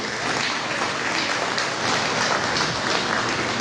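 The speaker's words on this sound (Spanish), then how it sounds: "damos un aplauso" Audience applause at a Spanish-language talk in a hall, a dense, even wash of many hands clapping at moderate volume that carries on steadily from start to finish.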